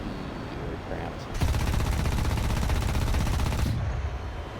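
An F-89D in War Thunder fires its four machine guns, three mounted underneath, in one loud continuous burst of about two seconds, with brief talk just before it starts.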